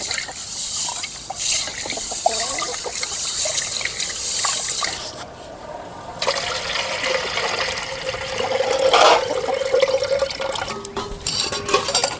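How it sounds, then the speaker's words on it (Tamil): Water coming to a boil in a cooking pot on an Indian kitchen stove while moong dal and bell pepper kootu is prepared, a steady close bubbling and trickling hiss that runs throughout with slight swells, no talk. "நல்லா தண்ணி கொதிக்க வருது"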